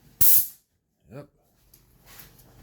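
A short, loud burst of paint sprayer hiss, followed by a brief grunt and quieter background noise.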